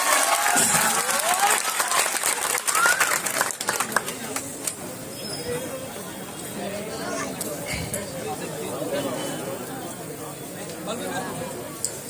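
A crowd at a political rally in Kodinar claps to welcome a speaker, with loud applause early on that thins into scattered claps under crowd chatter and a voice speaking over the public address.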